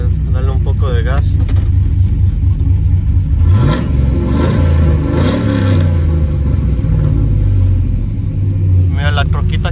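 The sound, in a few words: truck with cammed 5.3 engine and new exhaust revving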